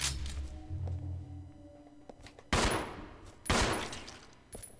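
Gunfire in Resident Evil 0 HD Remaster: two loud, sharp shots about a second apart after a stretch of quieter game noise, with a fainter thump near the end.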